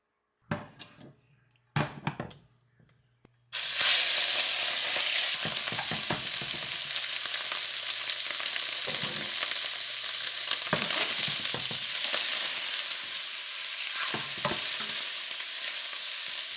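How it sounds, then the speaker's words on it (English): Shrimp sizzle loudly in a hot pan for ginger shrimp fried rice, a steady close hiss with occasional scraping stirs, after a few seconds of quieter clatter and a brief drop. "And now we're gonna cook the shrimp."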